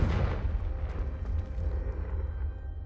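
A Confringo fire spell explodes in Hogwarts Legacy as a loud, deep rumbling blast with a crackling burst at the start, fading slowly over a few seconds.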